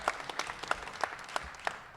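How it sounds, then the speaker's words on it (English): A graduation audience gives a graduate a round of applause, heard as sparse, fairly quiet claps at a steady rhythm, roughly one every third of a second, with a faint room murmur. "Let's give Martin a grand round of applause."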